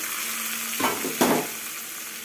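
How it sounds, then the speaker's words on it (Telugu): Tempering spices sizzling in hot oil for buttermilk curry, a steady close hiss with two sudden louder bursts of crackle a moment apart. "తాలింపు వేసిన తర్వాత తాలింపు వేసుకోవాలండి"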